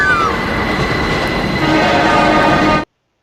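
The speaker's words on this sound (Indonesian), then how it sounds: "Lalu kereta itu datang sangat melaju, datang ke arahnya." A train in a film roars past loudly and steadily with rumbling wheels and a brief horn-like tone at the start, then cuts off abruptly.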